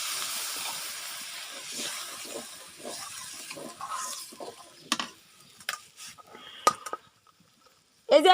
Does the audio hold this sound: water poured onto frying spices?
yes